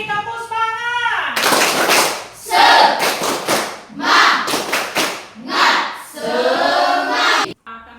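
Children join a rhythmic spirit clap in a classroom, bursts of group clapping and shouted chanting in a repeated pattern, loud and close, following a sung opening.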